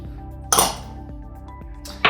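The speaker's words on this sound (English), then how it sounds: "So I'm just going to stir that a little bit" A utensil stirs mulled wine in a pan, giving two sharp metallic clinks against the pan about a second and a half apart over a low steady hum.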